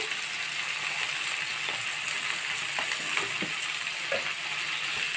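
Capsicum pieces with turmeric and salt fry in a pan, sizzling steadily while a spoon stirs through them with scattered scraping clicks. Nobody speaks.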